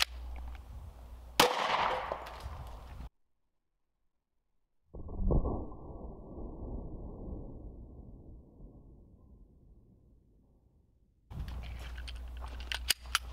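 Two sharp, muffled reports from a Glock 30 Gen 4 pistol firing .45 Hornady hollow points at cast iron skillets, separated by stretches of near silence and faint outdoor background.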